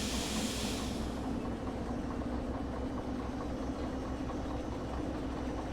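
Locomotive in the Derail Valley train simulator reversing to couple onto its cars, giving a steady low diesel rumble with a brief hiss of air at the start, continuous and close, with no talking.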